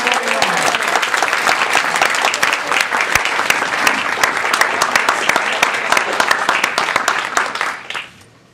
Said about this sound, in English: Let's have a big round of applause for all of our Table Topics contestants.